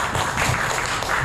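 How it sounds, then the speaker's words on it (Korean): Audience applause welcoming a panelist at an aviation security forum, a steady, fairly loud wash of clapping from the crowd with no break. "박수로 환영해 주시기 바랍니다"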